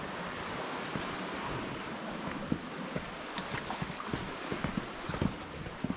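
Waves of the Irish Sea breaking against sea cliffs, a steady broadband wash of surf with occasional sharper splashes, mixed with wind noise on the microphone and no voices.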